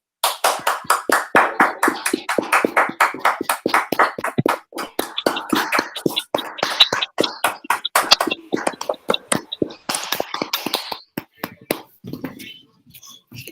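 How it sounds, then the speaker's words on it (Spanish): An audience at an electoral justice event claps, a loose crowd of hands making distinct sharp claps that thin out and become scattered toward the end, with some faint murmuring. "démosle un aplauso fuertísimo a doña Gloria y al magistrado de la Mata"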